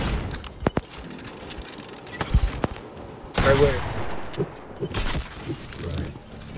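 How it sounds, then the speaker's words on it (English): Automatic gunfire from a squad-based mobile shooter video game crackles in short bursts and scattered shots amid game effects, with a player's voice talking over the action. "Dang, he got auto fire."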